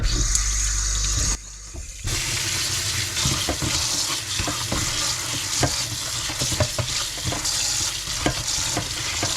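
Salted mustard greens being rinsed and stirred by hand in water, a steady wet sloshing and splashing with a short quieter pause near the start, continuing without talk.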